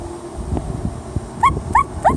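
A small child imitates a dog with three short, high barking yips in quick succession near the end, after a quieter stretch of background noise.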